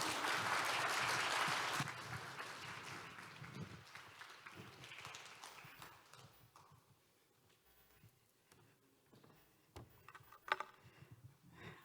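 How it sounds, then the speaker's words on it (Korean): Audience applause at a closing ceremony where a singer is welcomed to perform pansori; a loud burst of clapping at the start fades over several seconds into scattered, fainter claps and room noise. "큰 박수로 환영해 주시기 바랍니다"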